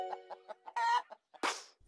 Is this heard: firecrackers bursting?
no